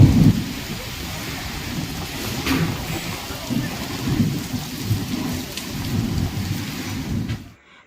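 A heavy thunderstorm with hail in Gondia: steady loud rain pours down while low thunder rumbles and rolls beneath it for several seconds, then the sound cuts off abruptly at the end.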